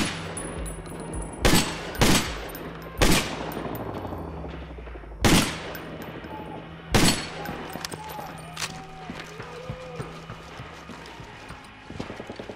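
Sharp pistol shots at targets in the video game Army of Two: The Devil's Cartel ring out one at a time at irregular intervals over a low hum and faint mechanical background noise.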